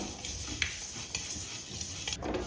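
Cumin seeds going into a hot pan while cooking mutton, a soft sizzle with scraping and stirring, light clinks of utensils against the pan, close and fairly quiet.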